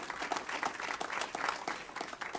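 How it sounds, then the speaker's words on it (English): An audience gives a quiet round of applause at a ceremony honouring first responders, a steady patter of clapping heard at some distance with faint murmuring. "Give him a nice round of applause."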